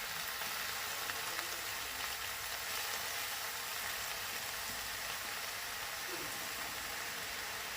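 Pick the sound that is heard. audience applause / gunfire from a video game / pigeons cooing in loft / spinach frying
spinach frying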